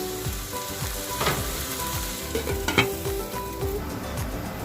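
Onions fry over medium heat for a chicken kofta curry, a close, steady sizzle with crackling pops and occasional scraping stirs.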